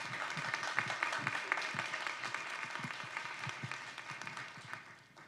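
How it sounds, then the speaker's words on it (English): Sustained audience applause for drag performers at a live stage show, dense steady clapping from many hands that fades toward the end. "Please give them a round of applause"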